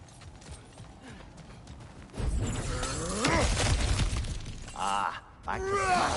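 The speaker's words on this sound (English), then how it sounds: "Back to smashing through things for fun and profit." Smashing through objects in God of War Ragnarok brings crunching, splintering breakage and clattering debris. The impacts come in bursts over game ambience, with brief character voices near the end.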